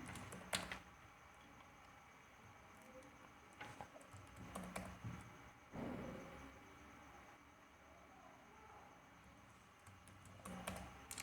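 A computer keyboard is typed on in short scattered bursts of quiet clicks, separated by pauses, faint against a low background hiss.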